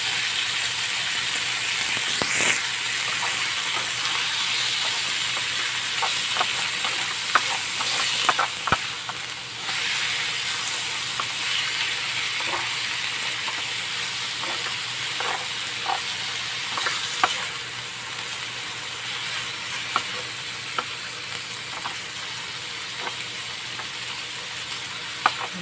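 Chicken pieces sizzle and hiss steadily in a hot pan while being stirred for Bicol Express, with occasional scraping clicks of the utensil under the continuous frying noise.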